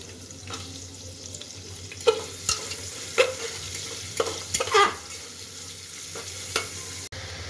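Onion frying in a pan with mustard seeds for spicy Marathi masale bhaat crackles with a low sizzle, broken by several sharp stirring clatters and scrapes, close and moderately loud, no voices.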